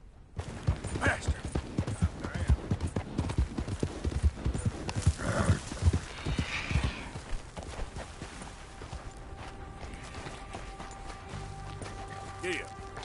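Horse hooves clip-clopping at a gallop in a PS4 video game, rapid dense beats for most of the stretch, a whinny heard along the way, before the hoofbeats thin out into softer game sounds.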